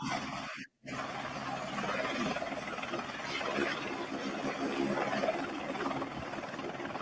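A helicopter's rotor and engine winding up before lift-off give a loud, steady, broadband whirring roar that fills the whole stretch, broken only by a brief dropout near the start.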